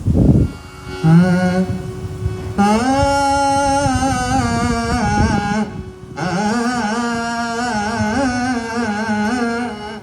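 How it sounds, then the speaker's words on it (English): A solo voice sings Odissi-style sustained notes with andolata gamaka ornaments, rounded, swinging oscillations between pitches, smooth and curving, close and fairly loud, with brief pauses between phrases. "The Odishan throw consists of a gamaka called Andolata, which is basically sounds like this."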